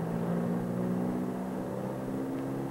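Small airplane engine at full power on the takeoff roll, a steady, close droning hum with no pauses and no voices.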